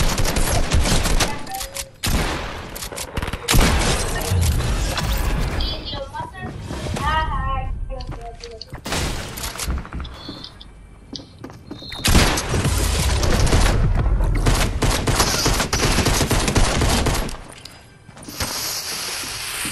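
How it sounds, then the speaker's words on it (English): Shotgun blasts go off in a Fortnite match amid dense, loud gunfire and booms that come in heavy bursts through most of the stretch, with people talking over the fighting. "A shotgun."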